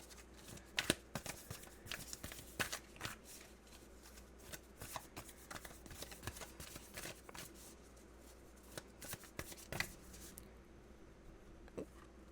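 A deck of tarot cards is shuffled and drawn in a quiet room, making soft riffling flutters and crisp card snaps in uneven bursts, close and gentle, with no speech.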